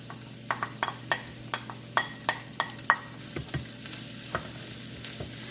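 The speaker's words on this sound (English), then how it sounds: "after adding my spices, I'm gonna let it cook for about like 2 minutes for all the spices to cook" Spices for a beef samosa filling cooking in a pan while a spoon stirs them, giving a steady run of short scraping taps over a low sizzle, close and moderately loud with no talk.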